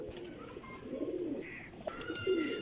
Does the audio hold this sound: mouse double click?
no